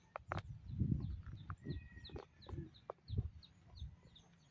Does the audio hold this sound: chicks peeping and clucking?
yes